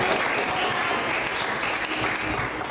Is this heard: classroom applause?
yes